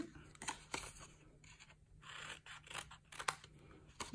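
Paper being trimmed with scissors while making a Stampin' Up! gift box: several short, crisp snips and paper rustles close by in a quiet room, with no speech.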